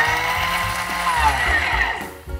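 Thermomix blades whirring on turbo pulse, chopping ingredients for butternut squash risotto: a loud, steady motor roar with rhythmic low thumps of food hitting the bowl, lasting about two seconds before cutting off abruptly.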